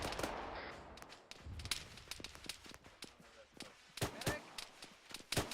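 Arma 3 gunfire in a squad firefight: scattered sharp rifle shots crack at irregular intervals, some near and loud, others more distant, building into quicker bursts toward the end, with muffled movement between them.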